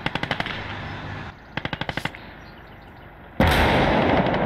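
Gunfire from a StuG assault gun in the WWII game Call to Arms – Gates of Hell: several quick rattling bursts of rapid shots, then a sudden louder, sustained roar of fire at the end.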